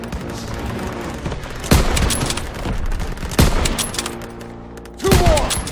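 Heavy gunfire in Call of Duty: WWII forms a steady, loud barrage of shots with several sharp, booming blasts standing out at intervals.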